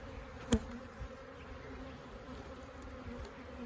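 A steady, fairly faint buzz of honey bees around an opened beehive during an inspection, with a single soft knock early on.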